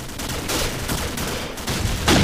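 Call of Duty 4 team deathmatch gunfire with a frag grenade, a dense burst of close, loud rapid shots and explosive cracks filling a brief span, with a heavier blast near the end.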